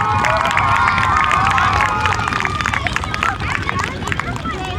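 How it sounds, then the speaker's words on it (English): Crowd at an elementary school law enforcement appreciation event applauding and cheering, loud mixed clapping with shouts and children's voices, then thinning into babble and scattered calls. "And I'd like you to just give them another round of applause for the efforts that they do."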